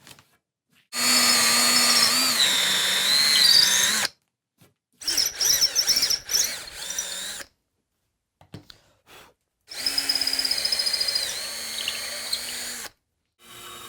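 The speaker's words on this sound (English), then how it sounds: "So I'll also mark the center point, and then I can drill the holes." A power drill bores holes just under 3/8 inch through wooden wheelbarrow handles, three separate whining bursts of a few seconds each with pitch dipping under load, close and loud with quiet pauses between.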